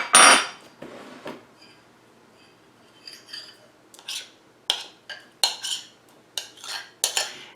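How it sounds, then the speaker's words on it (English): Cucumber and onion salad with dill tossed in a bowl: a loud clatter at the start, then intermittent clinks, scrapes and light knocks of utensils, growing busier toward the end, with no talking. "you're really going to have to toss this salad quite a bit to make sure everything is coated"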